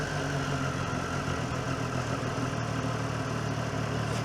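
A Triumph Tiger 800 motorcycle engine runs with the throttle slightly open, giving a steady, close, loud mechanical rumble that holds an even pitch throughout, with no talking.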